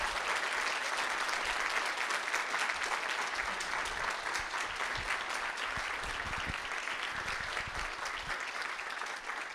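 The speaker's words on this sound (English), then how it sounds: "This applause is for you" At a GISMA graduation ceremony, the audience breaks into continuous, full applause for newly titled professors, the clapping dense and even from start to finish.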